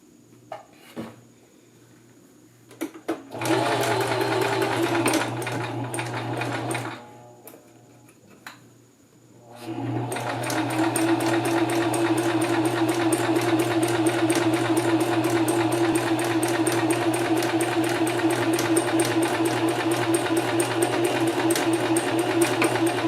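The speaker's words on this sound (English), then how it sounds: "We're going to start at the top of our seam here and sew all the way down." A sewing machine stitches a seam in thin fabric with a short stitch length, its loud, close whirring running in a short burst, stopping, then continuing steadily for a long stretch without speech.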